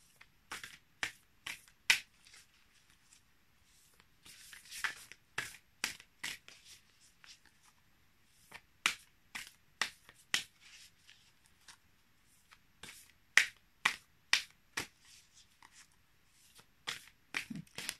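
Large Beyond Lemuria oracle cards shuffled by hand up close, a quick series of crisp slaps and riffles in uneven bursts with short pauses, no talk.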